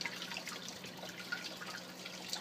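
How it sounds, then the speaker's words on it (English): Water sprinkles down onto the net pots of a vertical hydroponics tower, making a steady, soft trickle and patter with small drips throughout and no talking. "there's plenty of water sprinkling down on each net pot"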